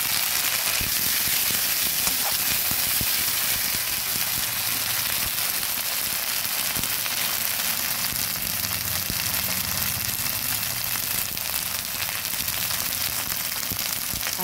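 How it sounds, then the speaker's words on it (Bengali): Ginger paste fries in hot oil, a loud, dense and steady sizzling crackle heard close up and continuous, with no voices over it. "আদাটা কিছু ভাজা হয়েছে"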